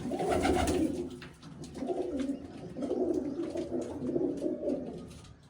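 Pigeons perched on a house roof coo in a close, repeated series of low throaty calls rising and falling in rhythmic bursts, with no one speaking.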